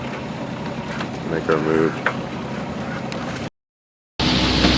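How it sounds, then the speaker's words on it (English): Sailboat's engine rumbling steadily at idle off Catalina Island under a person's talking, with wind and water noise, before a short gap in the sound. "We're just idling on the engine, so we'll power up here and"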